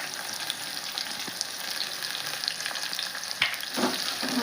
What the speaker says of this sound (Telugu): మరి ఇదైతే కొద్దిగా రెడ్డిగా అయ్యేంతవరకు మనం ఫ్రై చేసుకున్నాము.